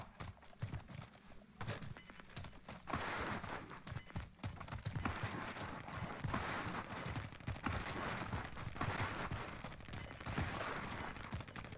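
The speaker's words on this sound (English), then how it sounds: "They're using suppressed gunfire," Rapid muffled thuds and pops of suppressed gunfire in Call of Duty: Warzone crackle in irregular bursts from a distance, a dense clattering exchange with no talking.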